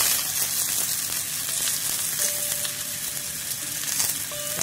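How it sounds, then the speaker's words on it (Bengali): Capsicum pieces fry in hot oil for handi chicken, giving a steady, close sizzle that holds level throughout with no talking. "ক্যাপসিকামগুলো এর মধ্যে আমি দিয়ে দিচ্ছি।"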